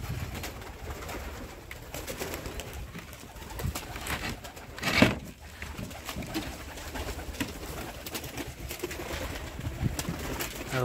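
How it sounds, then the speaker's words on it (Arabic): Pigeons coo steadily throughout a loft, with a constant low rustle of birds and one brief louder flutter or bump near the middle. "هذا القسم تاع الحمام اللي مولف نديرلكم عليه اللايف"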